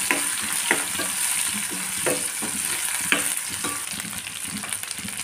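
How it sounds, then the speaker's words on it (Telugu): Green chillies frying in hot oil in a pan, a steady bright sizzle with occasional spatters and stirring clicks, close and continuous with no talking. "Golden colour लोकि वच्चा काबट्टि इप्पुडु Chillies वेस्तुन्नानु।"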